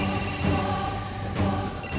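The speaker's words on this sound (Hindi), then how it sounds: "वो इस लड़की का फोन बज रहा था।" A mobile phone ringtone plays in an office, a bright repeating electronic melody with a high tone that pauses briefly, loud and close with no talking over it.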